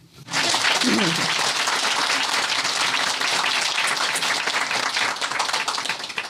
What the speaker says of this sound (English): Applaud to the storyteller, at least, huh?